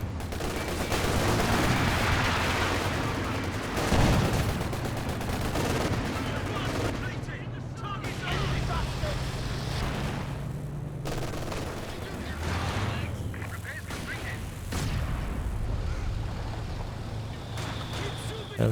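Mortar and infantry support gun fire in the video game Company of Heroes 2, dense repeated gunshots and blasts layered over continuous battle noise, moderately loud throughout with a commentator talking over it.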